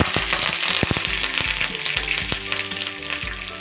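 Cumin seeds, dried red chillies and curry leaves crackle and sizzle loudly in hot oil for a tamarind chutney tempering, with steady frying hiss and sharp pops throughout.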